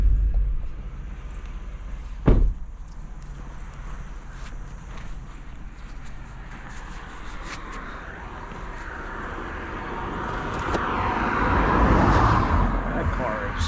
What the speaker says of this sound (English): That car is crazy quick.